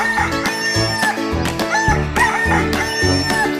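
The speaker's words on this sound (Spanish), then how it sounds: "Este es el gallo." A rooster crows loudly in a drawn-out cock-a-doodle-doo over a busy, bouncy backdrop of music and clucks, close and bright, with no talk.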